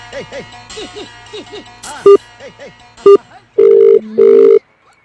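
A telephone ringing in a Telugu short film, two short ring bursts followed by two longer loud electronic tones, all after a stretch of speech.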